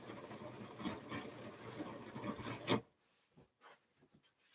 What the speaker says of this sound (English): And then I can scrape down the sides.